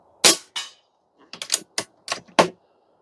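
Sharp, snappy reports from a .25 caliber Barra 250Z air rifle firing slugs, several quick cracks in irregular succession, close and fairly loud with no talking.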